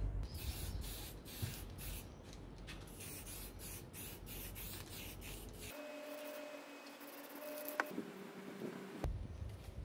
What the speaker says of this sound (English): we'll head outside and paint these up